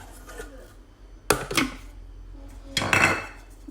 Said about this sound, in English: I'm going to close the lid